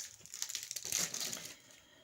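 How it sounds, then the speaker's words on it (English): An open plastic packet being handled, close crinkling and crackling that rises to a brief peak and then fades out. "I did have an open packet and I couldn't find it, so just excuse the crinkling"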